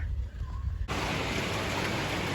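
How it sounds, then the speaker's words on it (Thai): Rain and hail falling outdoors in the Dachstein mountains of Austria, a dense, steady hiss that suddenly swells louder partway through and continues as a constant wash. "ฝนกำลังตกค่ะ ลูกเห็บก็ตกด้วย"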